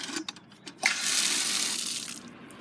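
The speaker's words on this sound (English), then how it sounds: "So, we got our pump here." Water from a pump at a yurt campsite: a few faint clicks, then a steady rushing flow of running water starting partway through and holding at moderate loudness until it eases near the end.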